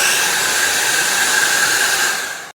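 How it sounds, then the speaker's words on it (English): A Slopehill Professional Ionic Hair Dryer 1902 runs at a steady, loud, high-pitched whoosh with a constant motor whine. It holds level throughout, with no talk, and cuts off abruptly at the end. "I will let you hear it. I don't think it's the quietest, but it works super quickly."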